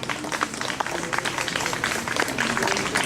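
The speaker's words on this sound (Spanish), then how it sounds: "Dale un aplauso a Jesucristo" Congregation clapping in a church service, dense overlapping claps at moderate level with some background murmur.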